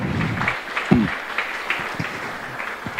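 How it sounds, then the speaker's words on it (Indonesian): An audience at a university gathering gives a round of applause, a soft, even wash of clapping with a few louder claps standing out, heard from a moderate distance with no talk over it. "boleh diberikan tepuk tangan Bapak Ibu"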